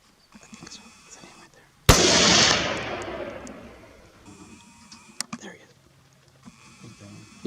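A single rifle shot fired at a mule deer in thick brush on a Sonora hunt, a sharp loud crack followed by a long rolling echo that fades over several seconds, then faint rustling and a brief click.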